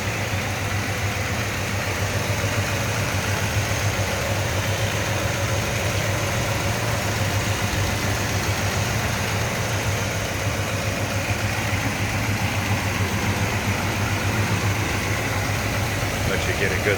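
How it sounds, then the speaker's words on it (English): A 1964 Chevrolet C10 pickup's Goodwrench 350 V8 with headers idles smoothly and steadily at close range, a constant low rumble throughout with someone talking over it. "Let you get a good listen to it, see how smooth that runs, some headers on it."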